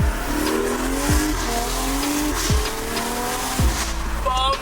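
BMW X3 M40i with a catless downpipe driving hard, its loud engine note climbing through the gears, with sharp shift drops about every 1.2 seconds and a brief crackle at the end.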